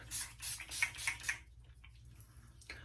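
Setting spray misted onto a face up close: a quick run of short, hissing bursts in rapid succession, then quiet with faint handling noise.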